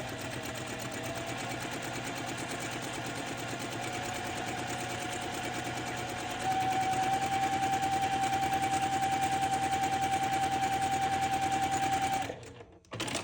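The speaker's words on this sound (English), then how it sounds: "I'm gonna come and sew a 1/4 inch from that line all the way down again" A sewing machine stitches a quarter-inch seam along a pinwheel quilt block, running in a fast, steady whir that speeds up midway, then stops abruptly near the end.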